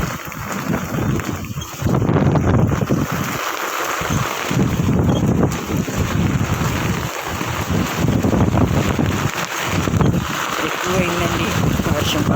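Heavy rain falls steadily outdoors as a dense, constant broadband rush with some wind buffeting, while a person talks over it throughout.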